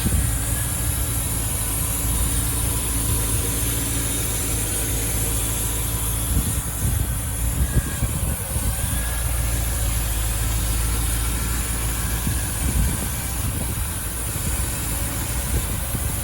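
Overfinch Land Rover Defender 90, 50th anniversary edition with a K&N-style air filter, idles warm in a steady, loud low rumble that holds unchanged throughout with no talk over it.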